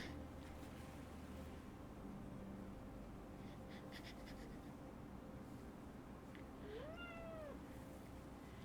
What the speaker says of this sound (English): It's kitten time.